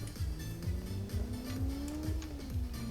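A car in the City Car Driving video game accelerates with a rising engine tone, which runs through gear changes under a steady rhythmic ticking, heard close and fairly quiet.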